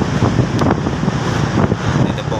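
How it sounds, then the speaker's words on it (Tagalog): Strong wind buffets the microphone at a harbour in Marseille, France, where a large ship is assisted by two tugboats, a continuous loud roar with gusty surges and possible wave wash beneath. "sa sobrang lakas po ng hangin."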